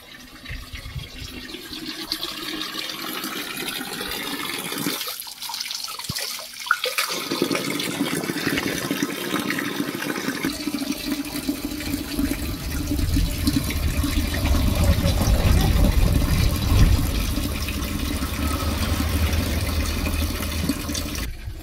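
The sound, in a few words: filling water from a sweet, cold mountain spring stream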